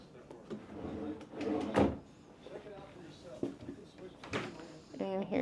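Drawers in a hotel room slide open and shut, giving several close knocks and scrapes spread across the stretch, with a voice heard faintly alongside.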